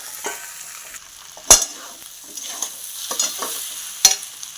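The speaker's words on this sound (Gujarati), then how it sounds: "હલાઈને થોડું મિક્સ કરીશું" Kabab mixture with boiled corn stirred in a hot pan, a soft sizzle under scraping strokes and a couple of sharp clinks of the spoon against the pan.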